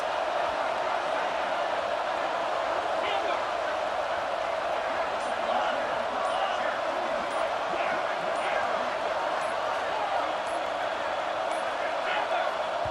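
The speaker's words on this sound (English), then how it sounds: "Listen to this crowd just shaking the girders of this place, trying to help their defense." A packed stadium crowd in the College Football 26 video game roars steadily and loudly, a dense unbroken wall of noise running under an announcer's talk.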